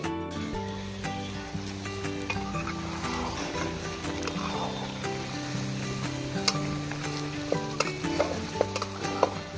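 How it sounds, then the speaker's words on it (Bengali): Goat meat with whole garlic cloves frying and being stirred in a pot over a wood-fired stove, a steady sizzle with scraping stir strokes and sharp clinks running through, under faint background music. "এবার আমরা মাংসটা ভালো মতো কষিয়ে নেব।"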